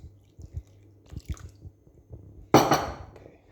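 Oil and buttermilk pour into thick chocolate cake batter in a bowl, a few soft wet squishes and drips near and close, ending in a louder splashing glug.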